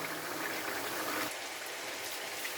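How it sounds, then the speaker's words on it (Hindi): Dal simmering in a pot for a Kashmiri-style lentil dish, a steady bubbling, rain-like patter throughout, close and even, softening slightly halfway through with no voices. "अभी हमारी दाल उबल रही है।"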